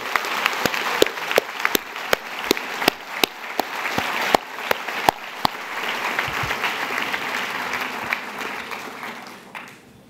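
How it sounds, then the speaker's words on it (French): A commencement audience gives graduates a long round of applause, sustained dense clapping with sharp individual claps standing out near the microphone, fading toward the end. "je voudrais qu'une grande salve d'applaudissements vienne saluer et féliciter cette belle réussite"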